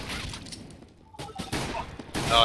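Glock pistol fire rings out in a Counter-Strike match at a gaming championship, with several quick bursts of shots spread across the moment, interleaved with a commentator's voice.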